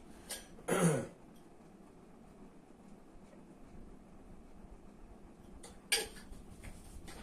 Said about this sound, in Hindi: खांसी आ रही है बार बार।